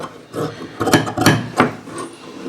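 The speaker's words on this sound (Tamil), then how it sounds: "பின் போட்டு கட் பண்ணிக்கோங்க" Scissors cutting through blouse fabric on a table: several close, rasping snips and rustles in uneven bursts, with no talking.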